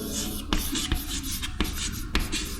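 Chalk or marker writing on a board during a chemistry lecture, a run of close scratchy strokes punctuated by sharp taps as the tip meets the surface at each new letter.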